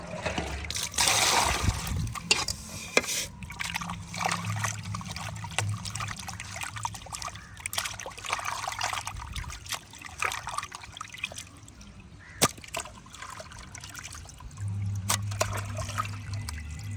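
Murrel fish are scrubbed with salt in water, giving close trickling, splashing and dribbling sounds with scattered sharp clicks and knocks. The sound ebbs and swells, and there is no clear speech.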